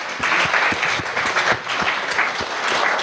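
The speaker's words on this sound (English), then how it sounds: "Definitely a round of applause" Audience at a cannabis business gathering in New York breaking into a round of applause, dense sustained clapping with a few sharper individual claps standing out, no talk over it.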